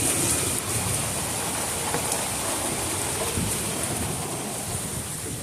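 Heavy rain pours steadily during a tornado warning storm in Franklin County, a dense, loud hiss with patter on nearby surfaces and no break.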